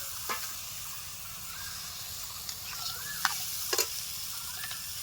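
Fried potatoes and paneer tipped into a pan of cooked-down masala, then stirred, with a steady low sizzle and scattered scraping clinks of a spoon against the pan, fairly quiet and close.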